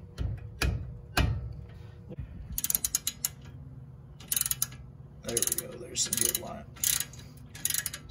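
A ratchet turning an Allen socket drives the front brake bolts on a BMW E36 / Z3, with several quick bursts of clicking separated by pauses and a few metallic knocks at the start, up close.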